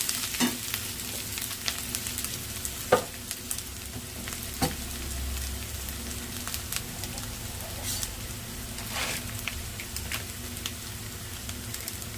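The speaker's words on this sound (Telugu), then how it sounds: "పసుపు వేసిన తర్వాత కాసేపు లో ఫ్లేమ్లో పెట్టి ఆనియన్స్కి పసుపు అంతా ఇంకేదాకా ఉంచాలి" Onions with turmeric frying in a pan on a low flame, a soft, even sizzle throughout with occasional small pops and stirring scrapes.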